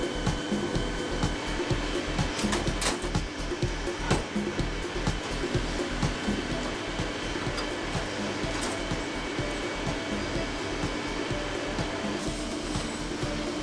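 An industrial machine molds a plug directly onto a cable for a waterproof connection, giving a loud continuous blowing whir with rapid low rhythmic thumping throughout.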